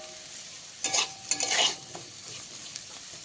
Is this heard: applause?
no